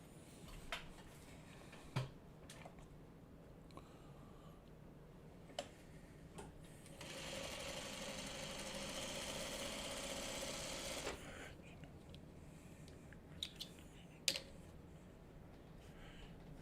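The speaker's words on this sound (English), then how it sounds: "now I'm going to sew my seams going opposite of where the other seam is." Sewing machine stitching quilt block seams, a loud steady mechanical chatter running for about four seconds in the middle, framed by quieter clicks and handling taps before and after.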